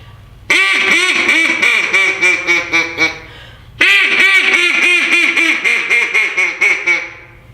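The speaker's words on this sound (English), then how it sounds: "you should probably hear what a duck call sounds like" Two long runs of loud, rapid quacking from a duck call, each a rhythmic string of nasal honks, close and clear with a short pause between.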